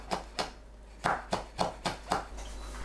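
A knife coarsely chopping cashew nuts on a cutting board, with about seven distinct close thuds at an irregular pace, separated by short quiet gaps.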